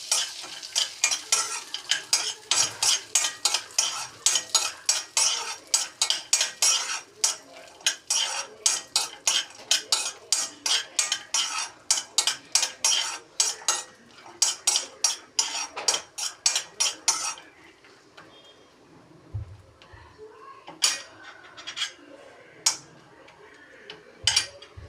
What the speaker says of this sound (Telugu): ఈ జీడిపప్పుని ఫ్రై చేసుకోవాలి